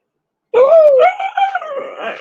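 A small dog lets out a close, loud wavering howl that breaks into shorter yips and whimpering cries, one excited burst after a moment of silence.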